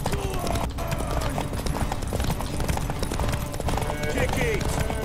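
Busy scene in The Witcher 3 with clip-clopping hooves under constant noise, voices and clashing effects; the hoofbeats blend into a dense, loud mix.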